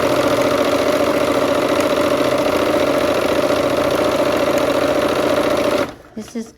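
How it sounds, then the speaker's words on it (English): A sewing machine stitches quilt strip sets with a quarter-inch seam, a loud steady mechanical whir running nonstop close up for about six seconds before stopping abruptly, leaving a few faint handling clicks. "So let's just go ahead and start sewing those strip sets."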